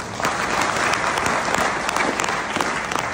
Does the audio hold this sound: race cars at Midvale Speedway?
no